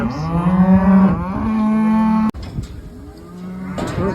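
Home-raised spring-born calves moo loudly and repeatedly on a farm, long drawn-out bawling calls overlapping with one another, with a brief clunk partway through.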